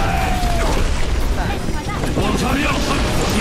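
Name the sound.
rocket barrage explosions in the video game Overwatch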